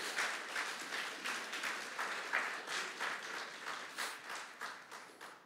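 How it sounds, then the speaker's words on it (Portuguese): A church congregation applauds steadily during an evening worship service, dense clapping from many hands filling the room at moderate level with rhythmic surges, with no talk over it. "Você pode dar um aplauso ao Senhor por sua vida?"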